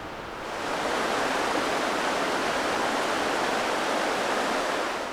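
A stream rushes through a narrow canyon in southern Albania, swollen and muddy after heavy rains, producing a dense, even roar of flowing water that swells in quickly and then holds steady and close.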